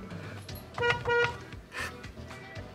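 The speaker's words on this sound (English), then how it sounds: "I'll give him a wee honk to let him know that we're here." Two quick high-pitched car horn toots, moderately close, followed by engine and cabin noise.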